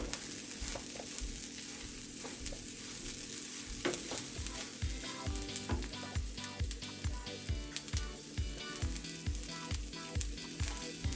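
Frozen green peas for Mexican rice sizzle in a hot pan, a steady frying hiss broken by regular scraping stir strokes, close and continuous with no voices.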